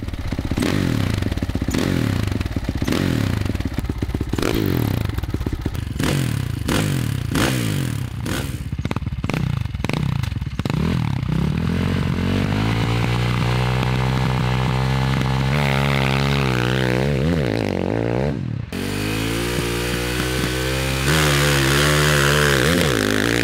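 Loud KTM 540 SXS motorcycle engine roaring close by, repeatedly revving up and dropping back with a harsh snarling exhaust, then settling into a sustained throaty drone.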